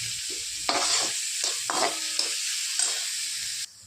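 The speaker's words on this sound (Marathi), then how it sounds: "कांदा थोडंसं लाल करून घेणार आहोत जास्त नाही" Chopped onion sizzles steadily in a hot pan while being fried to a light golden colour, with bursts of stirring scrapes at close range and no talking.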